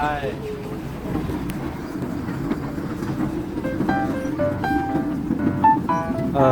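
A small tourist train on a farm rumbles and clatters steadily along, close by, while people chat and someone speaks; bright tonal beeps or chimes ring out near the end.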